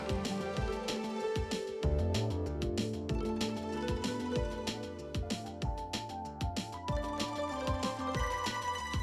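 A Maxcom MM471 mobile phone plays a ringtone melody, a bright electronic tune with steady rhythmic beats and layered synth notes that runs continuously and fairly loud, with no one talking.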